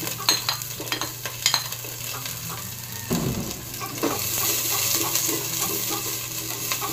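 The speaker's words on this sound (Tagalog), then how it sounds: "Sunod natin itong sibuyas, bawang," Onion and garlic fry in a pan for a Waray-style coconut milk dish, a steady close sizzle broken by scraping stirs and clinks of a utensil against the pan.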